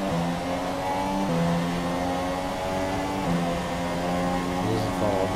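A Ferrari Formula 1 car in the F1 2017 racing video game, its engine holding a loud, steady, high-revving whine with stepped pitch shifts through gear changes under a dense motor roar.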